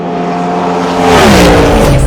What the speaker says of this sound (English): it's the sound of the Cadillac V-Series.R V8 engine.